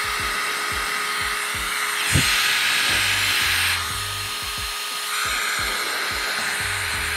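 A Nitecore BlowerBaby electric air blower for cleaning cameras and lenses runs in bursts, a steady high airy whoosh swelling and easing while it is held on, with faint clicks and handling noise close by.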